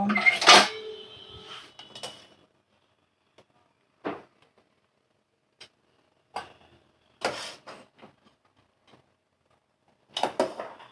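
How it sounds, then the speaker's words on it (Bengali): Boiled papaya pieces are scooped out of hot water and dropped into a bowl, giving a few sparse metallic clinks and taps of utensil against pan spread across quiet pauses, with no talking. "জল থেকে সমস্ত পেঁপেগুলো আমি একটা পাত্রে তুলে নেব"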